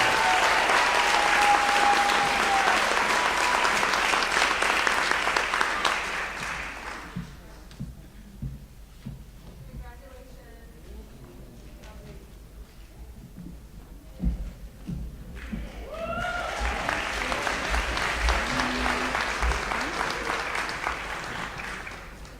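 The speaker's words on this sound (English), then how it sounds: "How about one round of applause for all these young ladies?" A school scholarship-night audience claps in a sustained round of applause that fades into quiet, with a few scattered sounds, before a second swell of clapping builds and carries on.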